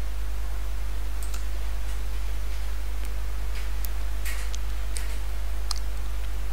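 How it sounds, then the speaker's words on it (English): A computer mouse clicks sparsely over a steady low electrical hum, several sharp, close, isolated clicks spaced irregularly with no speech. "click upon that Google Maps API"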